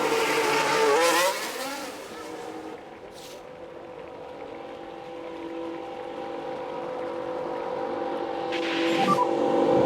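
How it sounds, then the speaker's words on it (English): A Formula 1 car engine in the video game F1 Manager 23 drones with shifting pitch, rising and falling as it revs, with brief bursts of noise at the start and end. "Let's get a car out on the track for its first run and see how it goes."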